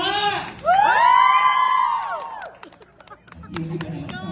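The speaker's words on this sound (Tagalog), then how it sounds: "magpalakpakan po na may kasamang malakas na sigawan" A women's audience bursts into applause and loud cheering with whoops, the shouting swelling high then trailing off into scattered claps and crowd noise.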